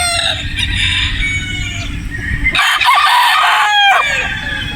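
A Sweater Boston bloodline broodstag rooster crows twice, loud and close, the second call after a brief pause, over steady farmyard background noise with no talk.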